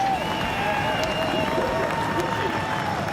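A big crowd at a Supercars race in Adelaide sends up a steady roar of applause and cheering. The broad wash of noise holds at an even level, with a thin tone running through it.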